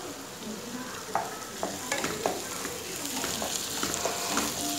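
Green chillies, ginger and curry leaves sauté over high flame in a pan for chicken curry, with a steady sizzle broken by repeated spoon scrapes and taps, close and moderately loud.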